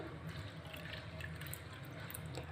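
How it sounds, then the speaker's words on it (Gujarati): Water poured from a cup into gram flour (besan) to mix a batter, a quiet, steady pour with faint splashing over a low background hum. "જે કપ ભરીને આપણે બેસન એડ કરેલો છે એ બે કપ ભરીને આપણે પાણી ઉમેરશું"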